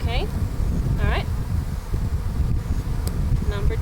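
Honey bees being installed from a package into a hive make a steady, dense, close buzzing drone throughout, while a person speaks in short bursts over it.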